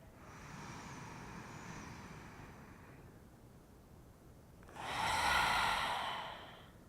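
A deep breath is exhaled through the mouth during a yoga session: one long, soft, airy breath sound, then a louder, fuller exhale as a big sigh near the end, close and alone.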